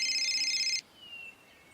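A telephone rings indoors with a bright electronic ringtone tone lasting under a second, then cuts off, leaving a quiet room with faint background noise.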